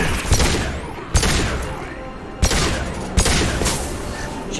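Sci-fi gunfire in Mass Effect 2 booms over a busy, dense backdrop, with four heavy shots at uneven intervals and a thick wash of battle noise throughout.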